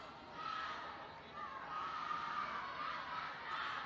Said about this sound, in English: Very enthusiastic crowd, as you hear, down the far end, cheering for their teammates for Cape Cod and Gators.